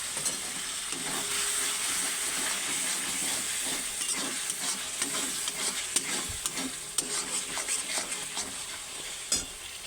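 Fried spice masala sizzling steadily in a pan as a little water is added, a dense hissing sizzle with scattered spatula taps and scrapes, for a chicken fry.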